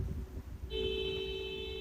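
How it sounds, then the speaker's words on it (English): In street traffic, one car horn blares a single steady honk that starts partway through and holds to the end over low road rumble. "Why is everyone honking?"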